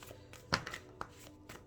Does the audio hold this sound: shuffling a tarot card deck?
yes